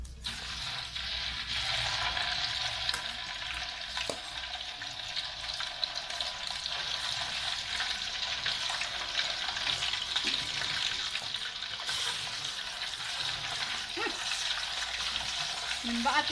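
Freshly caught fish frying in a pan gives a continuous, even sizzle with soft crackles and occasional stirring clinks, close and steady throughout with no talking.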